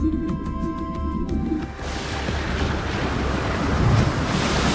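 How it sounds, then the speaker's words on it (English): Stormy sea waves crash and surge under gusting wind, a continuous loud roar that swells toward the end, preceded briefly by a faint chiming tone that fades out. "One night, a terrible storm swept across the sea."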